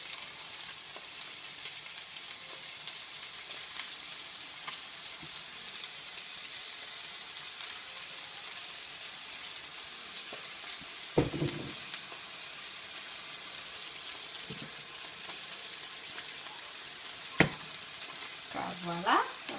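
Fish fry in a pan with a spoonful of honey, giving a steady broadband sizzle with occasional scraping stirs and clinks, close and low in level.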